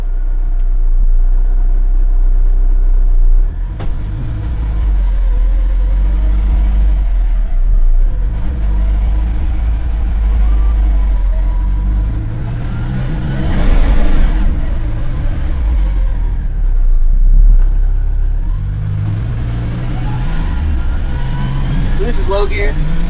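A CFMOTO U10 side-by-side, before sound deadening, rides slowly in low gear down a driveway at about 10 mph. Its engine gives a loud, steady rumbling drone with swells as speed changes, and someone talks throughout.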